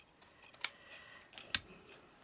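Scissors cutting a narrow strip just over an inch wide to about 2.5 inches long, two quiet crisp snips spaced about a second apart, close and alone.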